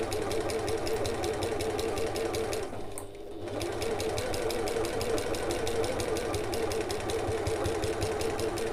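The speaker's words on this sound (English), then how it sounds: "Now I am going to back stitch at the start and the end of this." A sewing machine back stitches a flap on an evening bag, running in a steady rapid mechanical chatter, pausing briefly once, then resuming at a constant close, loud pace.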